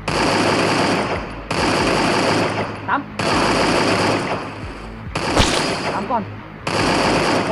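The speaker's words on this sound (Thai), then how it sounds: "ยิงกันยิงกันมันเลยเอเคสีทองมาแล้ว" Bursts of automatic fire from a gold AK in the Free Fire video game, several loud rapid rattling volleys broken by short gaps, close and dominant throughout.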